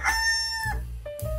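A rooster crows once, loud and close, a short harsh call over a steady musical backing with no talking.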